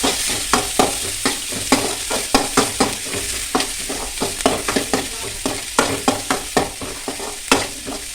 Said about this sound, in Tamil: அப்புறம் உள்ளி மிளகாய் நம்ம வதக்குறோம்.